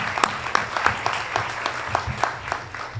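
A school board meeting audience claps and cheers, rapid hand claps blending into steady, fairly loud applause from a room full of people, with no speech over it.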